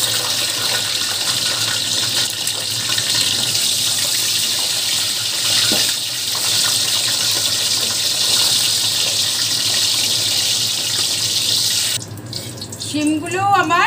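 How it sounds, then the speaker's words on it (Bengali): Flat beans (shim) fry in hot oil with a loud, steady, close hiss that runs unbroken for most of the clip, then shifts near the end with brief stirring and clatter. "এবারে ভাজবো শিমগুলো।"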